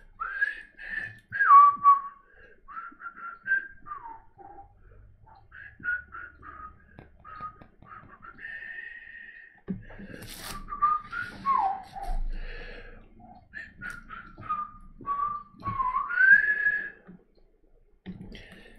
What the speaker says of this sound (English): Pretty awesome whistling, if you ask me.